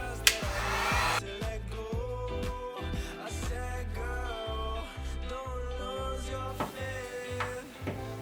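A heat gun warming a badge on a 2015+ Subaru WRX, a steady blowing whir that runs without a break. Soft music plays alongside it.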